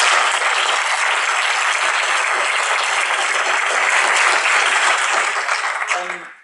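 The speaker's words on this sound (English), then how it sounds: "Maybe hand over applause for the speakers." Loud, sustained applause from a sizable conference audience, steady clapping throughout that tapers off at the very end.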